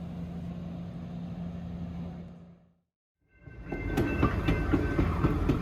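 An Alaska Railroad train leaving Talkeetna rumbles along, goes silent for a moment, then returns closer and louder with rhythmic clacking of wheels on the rails.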